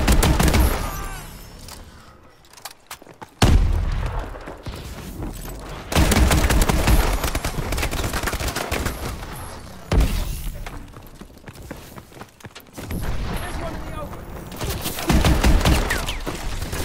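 Shotgun blasts in Call of Duty Advanced Warfare ring out in loud bursts of rapid, sharp reports separated by brief pauses, with rattling echoes and clatter trailing each volley.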